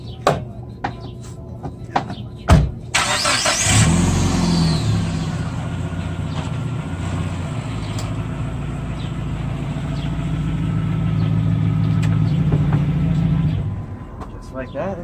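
A high-mileage, rusty 2003 Dodge Neon starts up and drives off service ramps. The engine hums steadily and swells slightly as it rolls away, close by, after a few clunks and some brief talk.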